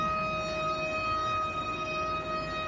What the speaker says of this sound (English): I think there might be a possible tornado warning, as you can hear the siren.